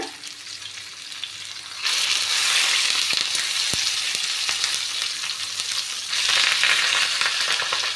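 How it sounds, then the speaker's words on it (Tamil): Masala-coated fish frying in oil over medium heat, a steady close sizzle that grows louder after a few seconds and swells again near the end, with no talking. "மீடியம் ஹீட்டில் வச்சு நம்ம பொரிச்சு எடுத்துக்கலாம்."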